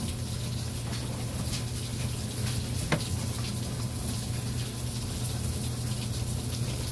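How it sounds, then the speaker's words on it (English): Steady rushing water flows continuously at moderate level, like a tap running nonstop, with one brief click partway through. "I run cold water so you can see through it"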